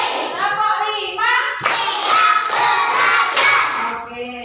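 Elementary school children in a classroom clap out a counting pattern: a chanting voice first, then a run of loud, close, rhythmic hand claps in quick bursts.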